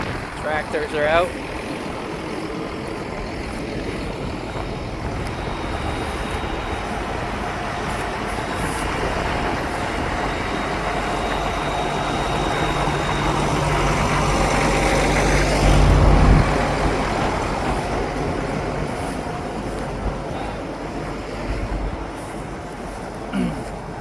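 Tractor engines rumble steadily at a hay-making site, a continuous low mechanical drone that swells somewhat toward the middle, with no clear talk over it.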